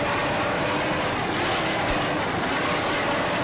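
A 32-foot Superboat racing catamaran built in Amityville, New York, with twin 550 horsepower KS&W inboard motors and MerCruiser drives, roaring continuously at full power in a dense, loud engine drone during a 1988 Key West offshore race.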